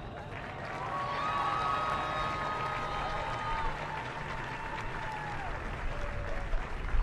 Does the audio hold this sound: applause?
yes